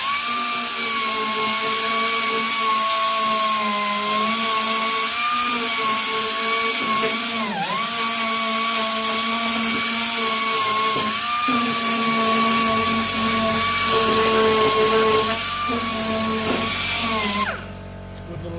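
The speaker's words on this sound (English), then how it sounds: "The other thing of course you need is the little sander" A small power sander whines steadily and loud at close range throughout, running under floor rust repair on an XB coupe. The pitch dips briefly now and then as it bears down on the metal, with no talk.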